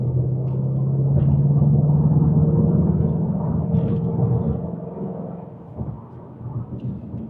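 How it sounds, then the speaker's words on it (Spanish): A Ford Mustang engine accelerating, a loud, deep rumbling roar that swells and holds steady before easing off, heard from inside or close to the car. "es un auto que no te cansas de acelerarlo como acá"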